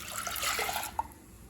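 Water pours into soaked chana dal in a pressure cooker, a brief gushing splash that stops sharply and leaves a faint drip and quiet room tone.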